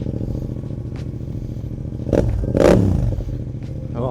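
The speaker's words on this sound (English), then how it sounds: "They sound so good, the CP2 engines." A Yamaha XSR700 motorcycle's CP2 two-cylinder engine idles with a steady low rumble, rising briefly in a quick blip of revs before settling back.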